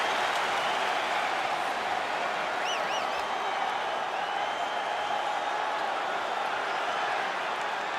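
A capacity arena crowd in UFC 5 before a middleweight championship fight, a steady, dense roar of murmuring spectators filling the space throughout, with a brief whistle-like cry rising from the mass.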